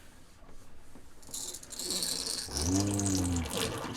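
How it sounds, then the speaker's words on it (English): A bathroom sink drains after shaving, letting out gurgling glugs that rise to louder, harmonic sucking swirls near the end, with faint water noise before. "Sigmund's already starting off with noises. A gluggy glug glug."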